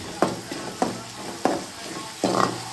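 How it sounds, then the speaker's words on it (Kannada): Coriander frying in a pan for a tempering with broken chillies, a steady sizzle broken by four sharp scraping stirs spaced through the clip, close and fairly loud with no voices. "ಆಮೇಲೆ ಸ್ವಲ್ಪ ಕೊತ್ತಂಬರಿ, ಇಷ್ಟನ್ನ ಹಾಕಿ ನೀಟಾಗಿ ಫ್ರೈ ಮಾಡ್ಕೊಳ್ಳಿ."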